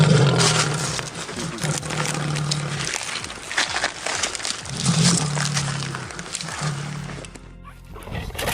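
A lion roars and growls in repeated deep bursts at close range, the sound rising and falling over rough outdoor background noise without any talking.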